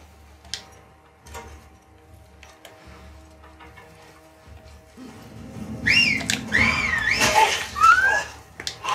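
Seraphite enemies in the video game The Last of Us 2 whistle to each other. Several bright, sliding whistles sound at mid distance over quiet ambience late in the clip.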